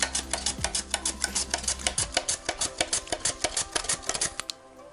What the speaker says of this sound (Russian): Нам нужно как можно тоньше нарезать его шайбочками.